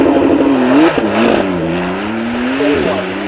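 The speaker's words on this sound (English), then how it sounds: "And still managing to spin up those rear wheels." A Porsche at the Beaulieu Supercar Weekend 2023 spins its rear wheels and loses traction, its engine revving loud and close in wavering rises and dips for a few seconds.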